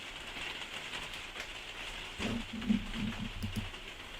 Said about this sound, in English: I wish there was a way I could block out the rain